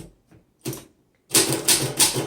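A 1935 Underwood Universal manual typewriter typed on up close: a few sharp, separate key strikes, then a quick run of loud, clacking keystrokes in an uneven rhythm.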